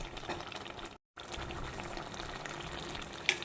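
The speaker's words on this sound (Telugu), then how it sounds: "మిక్సీ జార్లోకి వాటర్ కలిపి పోసేస్తున్నా" Water from a glass is poured into a mixer jar holding garam masala and coriander powder for a mutton curry, giving a steady close splashing rush with one brief break.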